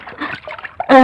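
Water splashes loudly during hand-washing of clothes at a riverside washing spot, a burst of sloshing that follows a stretch of talk.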